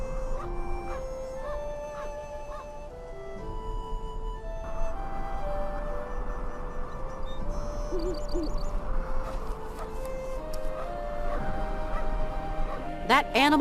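Hooting bird calls in the game Syberia II, several spaced tonal calls over a steady ambient musical background, with a dog's brief sounds near the end.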